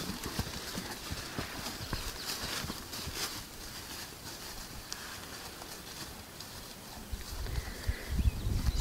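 Horses' hooves clip-clop steadily on a village farm as the animals move about, a fairly close, continuous patter of hoofbeats that grows louder and heavier near the end.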